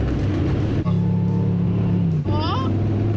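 A Ram 1500 pickup's Hemi V8 engine running, a deep, even rumble that holds steady, then briefly shifts with a rising whine near the end.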